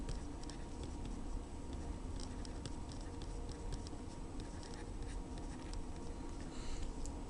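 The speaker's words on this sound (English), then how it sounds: "I'll write that down up here" A pen jots a calculation result by hand, leaving faint, quick scratchy strokes and light ticks that run steadily through a quiet room.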